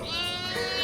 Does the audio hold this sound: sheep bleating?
yes